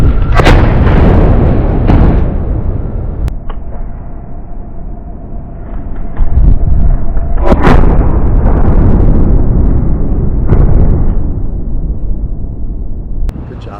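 A 5 inch gun aboard the battleship New Jersey fires several loud booming shots spaced a few seconds apart, each followed by a rolling echo over constant wind noise.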